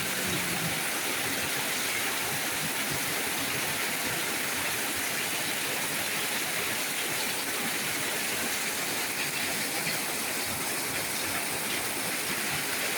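Dense, steady roar of heavy rain pouring down continuously, loud and close, with no voices.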